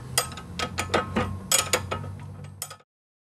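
A wrench tightens a ball joint nut on an Audi A4 B5 1.8T with the suspension unloaded, making a series of close, sharp metallic ratcheting clicks in quick uneven bursts before stopping abruptly.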